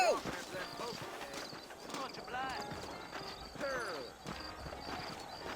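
Horses' hooves clip-clop at a steady walking rhythm in a Red Dead Redemption game scene set in New Orleans, close and clear over an ambient outdoor bed, with voices and a whinny mixed in.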